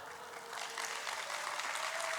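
Scattered applause from an audience at a church lecture, faint and distant, swelling slightly midway through.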